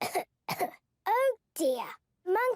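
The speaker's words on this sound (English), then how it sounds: "Monkey has a bad cough" A young child's coughs during Peppa Pig toy play: two rough, breathy bursts followed by three voiced, sing-song cough-like sounds, close and fairly quiet, each separated by short pauses.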